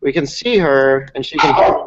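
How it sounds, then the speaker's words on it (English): A dog barks in short bursts mixed in with close conversational speech over a call, the barks partly masked by the talking voices. "That was my dog barking."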